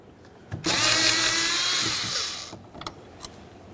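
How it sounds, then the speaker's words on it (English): A power driver whirring steadily for about two seconds while backing out a Phillips head screw from a car's inside door handle, close and fairly loud, with small clicks and handling taps before and after. "I'll remove the Phillips head screw though."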